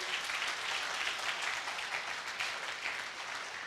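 A church congregation applauding during a sermon, a continuous, fairly dense round of clapping that holds steady for several seconds with no speech over it.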